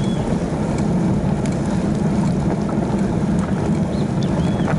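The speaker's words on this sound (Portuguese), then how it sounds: "tô com o vento contra aqui. Gelado." Cold headwind buffets the microphone while cycling, a loud steady low roar of wind rushing without a break throughout, with no talking.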